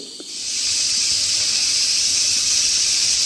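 A loud, steady high-pitched hiss of steam starts abruptly and continues without letting up as a pressure cooker cooking ven pongal vents its whistle.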